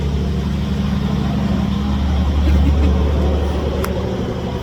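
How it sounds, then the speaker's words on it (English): A truck passes on an open road, a steady loud low rumble of engine and tire noise that swells slightly midway, with no talk heard. "let this truck pass."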